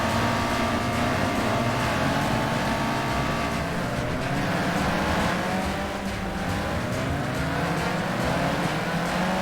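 Ministox race cars at Venray roaring off the line together at the start of the Grand Final, a loud, dense blend of revving engines rising and shifting in pitch throughout, with no voices over it.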